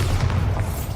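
A Bombarda blasting spell in Hogwarts Legacy bursts with a short, deep boom that rumbles briefly and fades within about a second.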